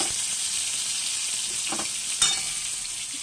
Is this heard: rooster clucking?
no